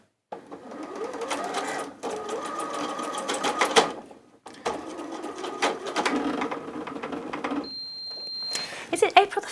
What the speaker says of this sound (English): just flip them to sides together and sew down the side